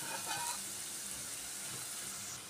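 Turmeric, Malvani masala and garam masala sizzle softly in a pan as they are sautéed, a faint, steady frying hiss with no talk.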